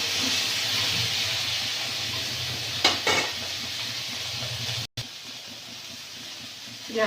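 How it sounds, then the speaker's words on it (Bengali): Onions and prawns frying with black cumin in a village kitchen pan: a steady, loud sizzling hiss throughout, with a couple of brief scraping stirs midway and a momentary cut near the end. "কালো জিরে ফোড়ন পেঁয়াজ আর চিংড়ি একসঙ্গে দিয়ে দেবো ভাজা ভাজা করে নেব"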